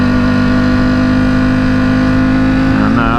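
A 2021 Ducati Superleggera V4 with its stock Ducati exhaust holds a loud, steady engine note close by, with a slight rise in pitch near the end.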